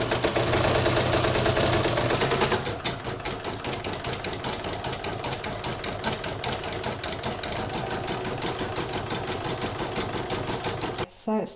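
An embroidery machine stitches a spider's web in a rapid, steady mechanical chatter, louder and busier at first, then settling into an even rhythmic run before stopping near the end.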